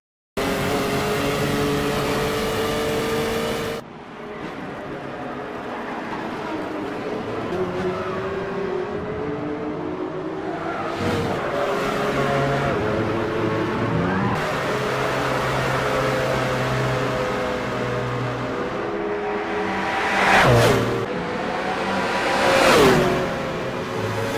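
High-performance cars race in a PS3 video game, a steady engine drone running throughout with revving swells near the end, loud and continuous with no talking.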